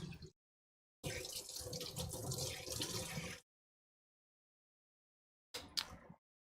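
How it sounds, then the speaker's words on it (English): Tap water runs into a sink as cooking tools are rinsed, heard in a couple of close splashing bursts separated by silent gaps, the longest lasting around two seconds. "Right now, I'm just going to go ahead and rinse off my tools here."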